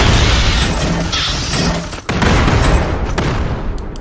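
Dense, continuous battle din of massed troop gunfire in the sci-fi strategy game Starship Troopers: Terran Command, booming and crackling loudly throughout with a brief dip midway, no one speaking.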